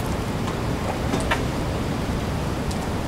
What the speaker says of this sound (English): watching the wind and rain from the warmth of our room